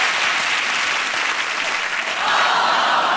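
A studio audience at a British TV chat show breaks into steady, dense applause that carries from start to finish and swells slightly louder near the end.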